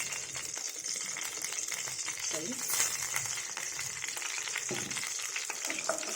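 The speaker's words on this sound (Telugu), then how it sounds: "కొంచెం నూనె వేసుకున్నాను మిరపకాయలు వేగాలి కదండి" Continuous oil sizzle and crackle from chillies frying, close and steady, with occasional stirring scrapes.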